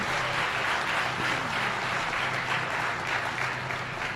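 A large crowd at a public speech in Tiruvallur claps together in a dense, sustained burst of applause that stays loud and even throughout, with no speaking over it.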